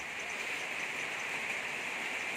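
Evening rain falling outdoors, a steady soft hiss of rainfall at low level, continuous and even throughout with no voices.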